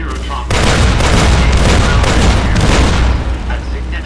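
A Securitron's missile launcher and rapid-fire gun in Fallout: New Vegas let loose with a sudden heavy boom, followed by sustained loud, dense rattling fire that tapers off near the end.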